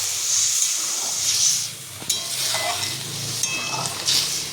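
Water goes into a pan of frying fish curry masala for singi fish jhol, producing a brief gush and then a loud, close sizzling hiss with stirring scrapes, no voices heard.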